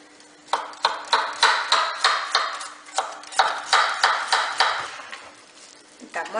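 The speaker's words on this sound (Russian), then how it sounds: "Нарезаем морковку." A knife chops carrots rhythmically on a cutting board, a quick series of sharp, evenly spaced taps that pause briefly midway before resuming.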